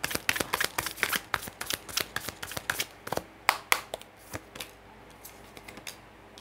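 Tarot cards shuffled by hand, a quick run of crisp, close riffling and tapping bursts in an uneven rhythm, with no talk.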